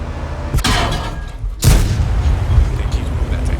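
Tank cannon fire in World of Tanks, apparently from an E-25, lands as one heavy boom after a smaller crack. The blast rolls out over a low rumble, and someone talks over it.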